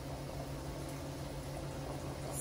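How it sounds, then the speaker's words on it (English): A steady, dense bubbling hiss of water at a rolling boil, close by and continuous with no voices. "It's bubbling up in there. That's how you know it's coming to a boil."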